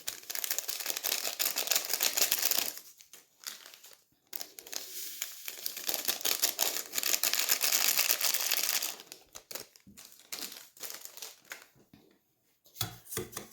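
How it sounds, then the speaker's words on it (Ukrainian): Rapid, steady scraping and clinking of a whisk beating eggs and sugar in a bowl, in long bursts with short pauses, close up and fairly loud. "Збиваю вінчиком."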